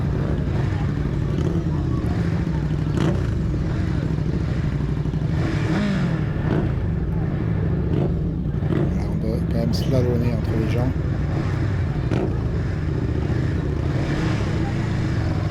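Steady motorcycle engine drone with road rumble while riding through Montalivet, someone talking over it throughout, and crowd noise passing by.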